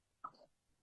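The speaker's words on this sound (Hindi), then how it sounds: "सॉरी, इधर खांसी हुई है।" A single short cough, faint and brief, with quiet stillness around it.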